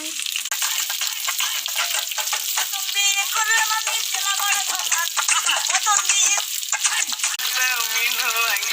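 Fish fries in hot oil with a dense, continuous sizzle and crackle, close and loud, with bursts of popping spatter throughout and no talk over it.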